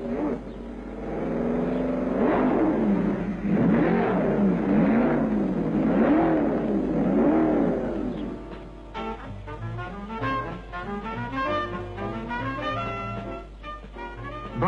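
An MG 1100 saloon drives and accelerates, its engine note rising and falling through sporty gear changes; the sound stays close and steady, partly under a musical bed toward the end.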